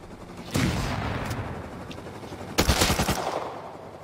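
Gunfire in the survival game Rust with older recoil sounds, two loud bursts of rapid automatic shots, one near the start and a stronger one past the middle, with noisy background between.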